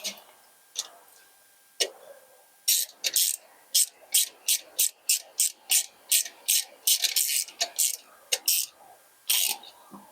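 A ratchet wrench tightens a bolt on a Honda Dominator NX 650 motorcycle, giving a rapid series of sharp, close mechanical clicks in rhythmic bursts with short pauses between strokes.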